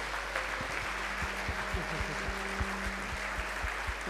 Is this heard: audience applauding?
yes